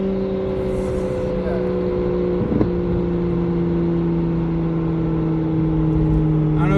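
Single-turbo BMW N54 car cruising with a steady tonal differential whine over a constant engine and road drone, one short clunk midway, no talk heard.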